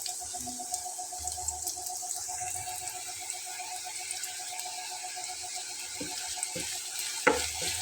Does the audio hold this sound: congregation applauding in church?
no